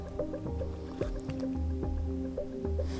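Kunafa cupcake batter being spooned into cupcake cases, giving soft wet squishes and drips at an irregular pace, close and fairly quiet.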